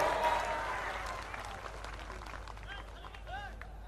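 Audience applause greeting Congress leader Mallikarjun Kharge at an outdoor Bharat Jodo Yatra rally, a steady wash of many hands clapping that slowly fades over a few seconds, with crowd voices mixed in.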